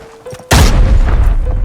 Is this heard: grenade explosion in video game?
yes